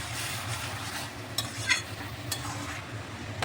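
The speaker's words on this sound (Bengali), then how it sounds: "এখন এখানে দিয়ে দিচ্ছি 1 চামচ ঘিটা দিয়ে ভালো করে একটু কষিয়ে নিচ্ছি।" Cabbage being stir-fried with a spoonful of ghee for a Bengali recipe, a soft continuous sizzle under light stirring with a few sharp scrapes and clicks of the spoon against the pan.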